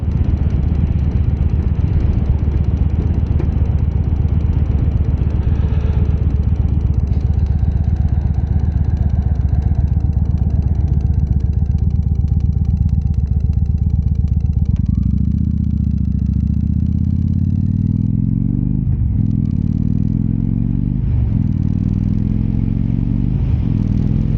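Motorcycle engine running steadily for the whole stretch while riding on a road, a loud low rumble that shifts pitch partway through as the revs rise and fall.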